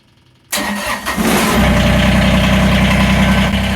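A tractor's diesel engine cranks and catches after a short silence, then settles into a loud, steady, rumbling idle close by.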